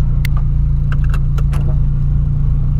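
A lowered 2013 Volkswagen Gol G6 idles loudly and pulls away, its engine drone steady and close, with a few light clicks and rattles from the cabin scattered over the hum.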